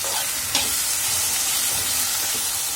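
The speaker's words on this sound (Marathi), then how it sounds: "तेलावरच आपल्याला भेंडी छान भाजून घ्यायची आहे" Okra (bhindi) roasts in oil in a pan with a broad, constant hissing sizzle, one small clink near the start and faint scraping stirs underneath.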